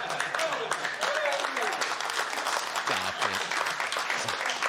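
A comedy audience claps and cheers at a crude joke during a stand-up set, with the applause filling the room for several seconds while a voice talks over it.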